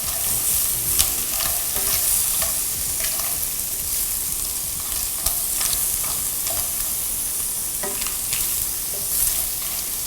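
Thai-style spaghetti stir-fried with clams over high heat makes a loud, constant sizzle broken by repeated scraping stirs and tosses, close and without talk.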